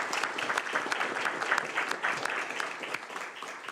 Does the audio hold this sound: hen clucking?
no